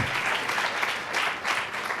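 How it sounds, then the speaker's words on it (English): Loud, close applause from a summit audience after a keynote, a thick rush of clapping that swells and dips slightly in waves over a couple of seconds, with no voices. "I think we actually deserve an applause as a human race."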